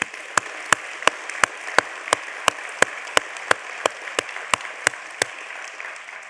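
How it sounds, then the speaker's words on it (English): Clapping for the City of Santa Monica staff at the 2024 State of the City event comes as evenly spaced, sharp claps, roughly fifteen in quick steady rhythm over a soft, continuous background wash. "please join me in a big round of applause for the incredible staff of the City of Santa"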